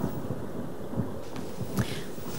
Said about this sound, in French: J'ai très peur du tonnerre et des éclairs, je ne parviens pas à dormir.